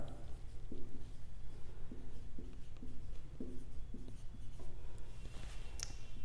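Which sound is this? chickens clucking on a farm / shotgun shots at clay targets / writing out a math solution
writing out a math solution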